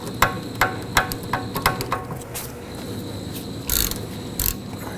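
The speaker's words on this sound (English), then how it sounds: "we're gonna use a 14mm socket on our ratchet to go ahead and try and loosen these" Ratchet fitted with a 14mm socket working a rear sway bar link nut on a 2005-2009 Subaru Legacy, giving a series of sharp metallic clicks and knocks in an uneven rhythm, close by.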